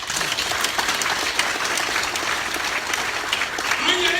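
A crowd at an outdoor town hall meeting in Liberia claps for the president, dense steady applause throughout, with voices mixed in and a louder spike of cheering near the end.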